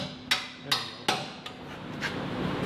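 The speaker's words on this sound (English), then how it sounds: "go ahead and hit that bolt" A hammer strikes a bolt during a welding repair job, three or four sharp metallic blows spaced a little under half a second apart, then fading off into a steady background hum.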